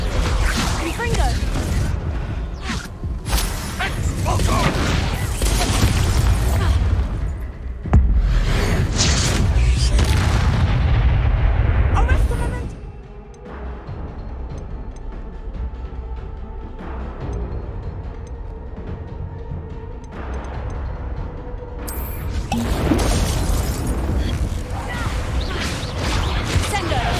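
Confringo fire-spell blasts and combat effects crash in the Hogwarts Legacy video game, loud and dense for about twelve seconds, then a quieter stretch before another surge. Voices shout during the fight.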